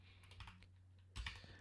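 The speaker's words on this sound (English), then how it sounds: "Because clearly I'm typing very slow." Slow typing on a computer keyboard makes scattered, quiet clicks close by over a steady low hum, with one louder cluster of keystrokes near the end.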